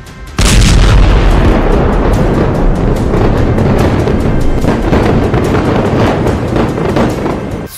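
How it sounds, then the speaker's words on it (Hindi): Iranian ballistic missiles striking an Israeli military base at Tel Nof, a sudden heavy boom followed by a sustained loud roar and rumble of explosions and crackling blasts that persists throughout. "ईरान की 3 बैलिस्टिक मिसाइलें मध्य इजराइल में सैन्य ठिकाने तेल नौफ बेस पर गिरी"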